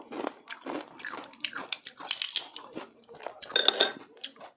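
Someone eating paksiw na pata at a mukbang meal makes close, irregular crunching bites and chewing, mixed with light clinks of cutlery against dishes, with no clear speech.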